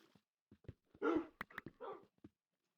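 Dogs in the video game Minecraft giving a few short, sharp barks and yips, close and fairly quiet, in scattered bursts separated by silence.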